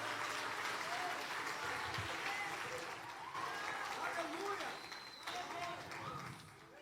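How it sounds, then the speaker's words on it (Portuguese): A church congregation applauds loudly during a worship service, broad sustained clapping with crowd noise and voices mixed in, fading slightly toward the end. "Aplauda ao Senhor forte, mais forte que você puder."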